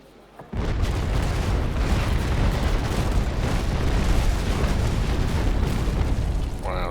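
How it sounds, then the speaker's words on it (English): Cannon fire in the naval combat game Naval Action: a sudden heavy boom opens into a long, loud, rumbling roar of blasts and hits that carries on steadily without pause. "Wow, there goes another couple of cannons."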